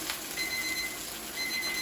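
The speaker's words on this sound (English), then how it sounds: "And there is the timer." A kitchen timer goes off while salmon, rice and lentils are being cooked, sounding repeated rapid high beeps in two bursts over a steady background hiss.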